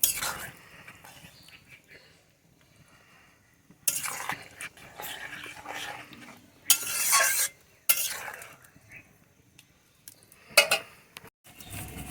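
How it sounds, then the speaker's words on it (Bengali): Milk and sugar being stirred in a pan while cooking Bengali shukto, with scraping spoon strokes and pan clatter in bursts, moderately close, no talk. "দুধটা দিয়ে চিনি দিয়ে নাড়াচাড়া করে দিই।"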